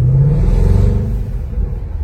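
A Range Rover Velar SV Autobiography engine revs through its exhausts, a loud close-up deep rumble that swells and settles over two seconds.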